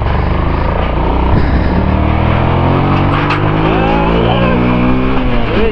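A motorbike rides along a rough off-road cliff track near Kusma, Parbat, its engine droning loud and close without a break, with slight shifts in pitch as the ride goes on.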